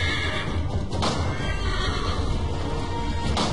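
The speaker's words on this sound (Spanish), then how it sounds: "Vamos, caballo." A horse whinnies in Assassin's Creed 3 gameplay, heard close and fairly loud over steady game ambience and low rumble, with a second whinny near the end.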